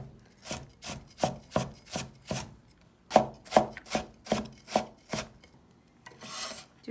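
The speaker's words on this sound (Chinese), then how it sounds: "最后我们再给它切成细颗粒" A kitchen knife chops shredded carrot into fine granules on a cutting board: two bursts of quick, evenly spaced crisp thuds with a short pause between, close and clear with no talking.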